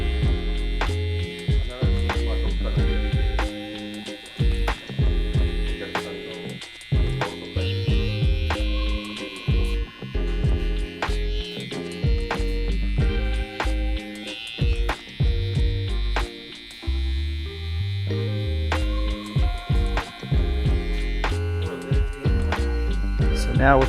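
Electric hair clipper running during a barber's taper fade, a steady close mains-like buzz that cuts in and out repeatedly as the clipper works.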